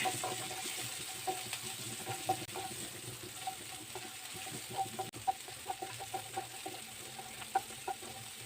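Garlic sizzles in oil in a pan, a soft continuous frying hiss dotted with small crackles and the scrape of occasional stirring, close up and fairly quiet with no talking.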